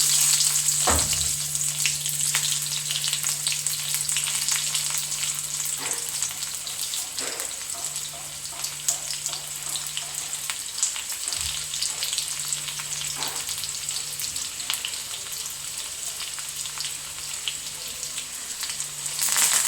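Onions fry in oil with a steady, close sizzle, broken by occasional stirring knocks against the pan.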